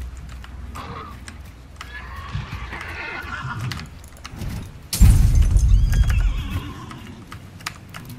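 A horse whinnies loudly in Hunt Showdown as it burns, its cries rising over crackling game noise and hoofbeats, with a sharp loud burst near the middle of the clip.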